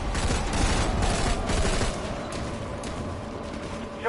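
A dense, continuous barrage of gunfire and explosions in the online shooter Planetside 2 on PS4, a loud, sustained roar of mixed weapons that eases slightly toward the end.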